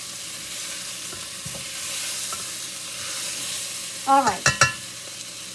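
Beef browns in a pot for oven-style stew with a continuous moderate sizzle, then a short burst of stirring clatter near the end, and a voice speaks briefly.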